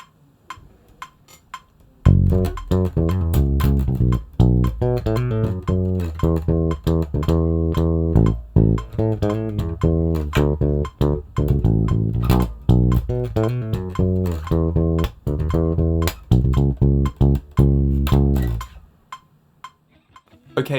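A full-speed bass guitar riff starts after a brief quiet lead-in, with a fast, driving run of close, deep plucked notes played continuously before stopping near the end.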